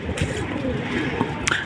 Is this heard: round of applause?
no